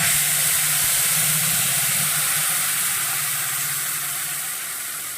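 A paste of onion, garlic and tamarind frying in hot oil, giving a loud, steady sizzling hiss that fades slightly toward the end, with no talking.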